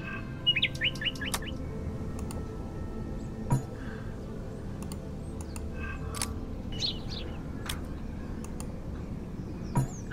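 Bright synthetic bird chirps from a video game, several short tweets and trills scattered over a low background hum, with occasional sharp clicks in between.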